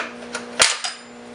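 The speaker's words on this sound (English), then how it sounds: "So let's pop the air filter cover, take a look on the inside of this chainsaw" A snap air filter cover popped open on a Dolmar PS-510 chainsaw, a single sharp plastic click heard up close, with a couple of fainter clicks around it and a low hum behind.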